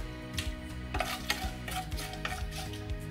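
Whole spices (cloves, star anise, cinnamon, cardamom and bay leaf) frying in oil in a pressure cooker for paneer biryani: a soft, low sizzle with light stirring scrapes and small utensil taps, fairly quiet.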